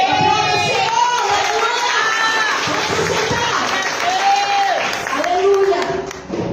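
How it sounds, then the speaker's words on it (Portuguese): A church congregation at a women's gathering claps and cheers together, a dense crowd roar of applause mixed with shouting and raised voices, loud and continuous, with speech over the top. "Aplauda o Senhor"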